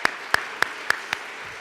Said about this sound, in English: Let us give Frank another round of applause to thank him for coming.